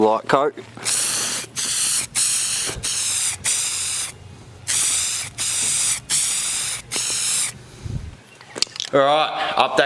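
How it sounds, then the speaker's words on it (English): Aerosol primer sprayed onto the boot of a Nissan Silvia S15 200SX, sounding as loud, close hissing bursts, each about a second long, separated by short pauses, ending in brief handling noises. "we'll spray these areas now"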